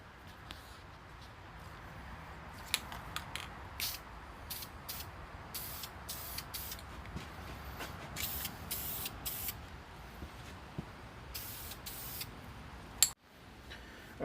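A spray can sends repeated short hissing bursts of paint onto fog light trim indoors, close and fairly loud over a faint steady background hum, with one sharp knock near the end.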